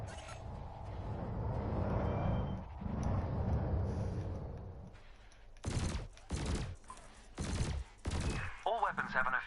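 Ship weapons in Elite Dangerous fire at floating canisters: a rumbling stretch of blasts gives way to several sharp, separate bursts of shots, with a voice speaking faintly beneath the action.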